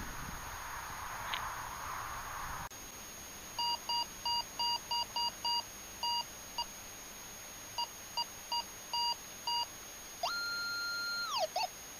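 Repeated short electronic beeps from a Minelab Go Find metal detector, in bursts with uneven gaps, ending in a longer warbling tone over faint background hiss, signalling a coin.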